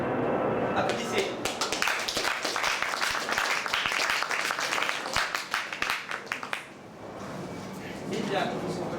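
Applause from an audience among friends at a small performance, honoring a poet: a crowd's dense clapping for several seconds that briefly dips near the end, with some voices mixed in.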